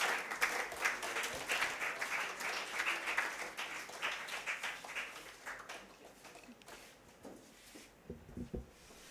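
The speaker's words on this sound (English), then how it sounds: "Please let us give a warm round of applause" An audience at a professional event in Nigeria claps warmly, with dense, sustained applause that gradually thins out and ends in a few scattered claps.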